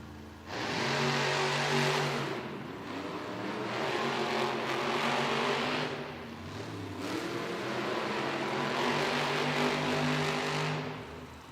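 Monster trucks rev and race in an indoor arena at a Monster Jam event in Green Bay, a sustained loud engine roar that swells and dips as they run, with no voices.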